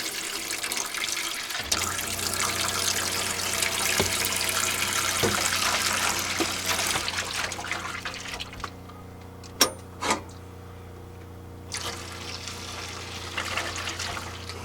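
Cold water runs steadily from a tap into a sink aboard a narrowboat for about eight seconds, then stops, followed by a couple of sharp clunks and quieter handling sounds.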